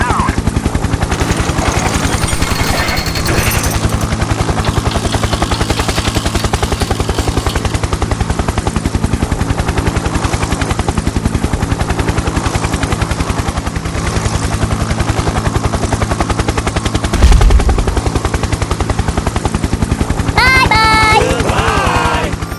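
Rapid cartoon gunfire in a police scene with trucks and a police car on bridges, a loud continuous rattle of shots over busy engine-like noise, with voices and a brief high squeal near the end.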